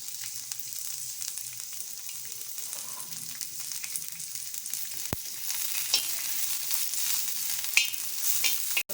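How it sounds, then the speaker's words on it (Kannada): Garlic frying in a little oil until browned for a mutton sambar, a steady close sizzle with occasional sharp clicks of a spoon against the pan, no voices. "ಇಷ್ಟು ಹಾಕಿ ಸ್ವಲ್ಪ ಎಣ್ಣೆನ ಹಾಕ್ಕೊಂಡ್ಬಿಟ್ಟು ಚೆನ್ನಾಗಿ ಕೆಂಪಗಾಗುವಷ್ಟು ಹುರ್ಕೊಳ್ಳೋಣ"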